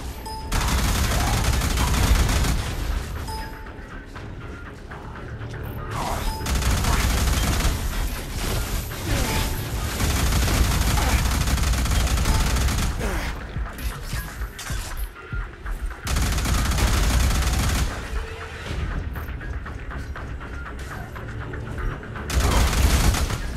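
Sustained bursts of gunfire from weapons shooting at aliens in the first-person shooter Alien Rage, loud and dense, with rapid volleys and booms running nearly continuously and only brief lulls.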